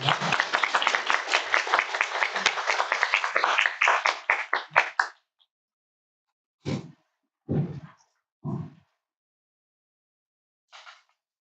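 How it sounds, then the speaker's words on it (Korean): Audience applause at a Korean redevelopment lecture session, heard as dense sustained clapping for about five seconds that thins into a few scattered, isolated claps, with no talk. "다시 한번 큰 박수 부탁드립니다."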